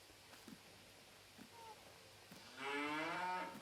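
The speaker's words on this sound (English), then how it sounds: "I have the Angus cows here, which is good for beef" Angus cattle in the video game Farming Simulator 22 let out one long, fairly close moo near the end, after quiet clicks and faint background noise.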